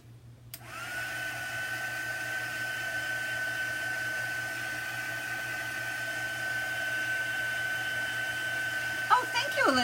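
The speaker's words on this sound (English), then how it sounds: "so let's dry that with the heat gun" A heat gun drying chalk paste during a chalk art craft session gives a steady, even blowing hum that starts abruptly and runs throughout, with a brief clatter at the end.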